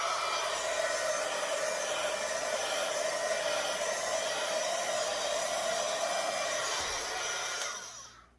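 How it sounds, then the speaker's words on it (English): A heat gun blows steadily over a freshly poured acrylic paint pour, popping surface bubbles; a constant loud whooshing hiss runs alone for about eight seconds, then cuts off. "I'm going to hit this for just a second with my heat gun to hopefully pop any bubbles that might be in there."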